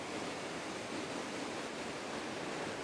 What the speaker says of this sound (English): there's a cascade right in front of me